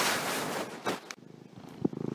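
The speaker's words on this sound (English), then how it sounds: "My cat is actually nudging the microphone here" A purring cat close to the microphone, a low rapid rumble with brief bumps as it nudges against the mic, heard alone with no talk.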